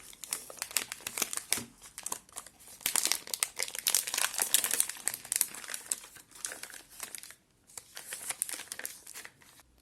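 A Milka hazelnut caramel chocolate bar's wrapper is torn open and crinkled, with close, loud bursts of crackling plastic in irregular clusters, pausing briefly near the end before resuming; no voices.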